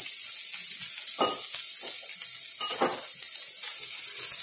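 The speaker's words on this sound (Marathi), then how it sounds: "कांदा व्यवस्थित आता आपण परतून घेऊया. कांद्यासोबत आपण थोडं आलं लसणाची पेस्ट टाकून देऊया." Onion frying with ginger-garlic paste in a pan gives a steady, loud, close hiss of sizzling oil throughout, with a few soft stirring scrapes rising above it.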